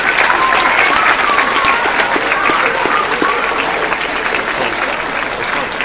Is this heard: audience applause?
yes